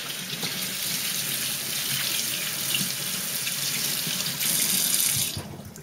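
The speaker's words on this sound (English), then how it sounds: "just go run it under cool water so that it holds its form" Cool tap water runs steadily from a faucet over a freshly fitted rugby mouthguard, a close, continuous splashing stream that swells slightly near the end before cutting off.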